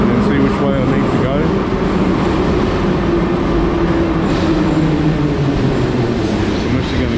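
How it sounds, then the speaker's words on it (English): Metro train at Arsenalna station in Kyiv, a loud, steady rumble and roar of railcars running on the rails, close and continuous throughout without any voices. "I come here, jump into the metro,"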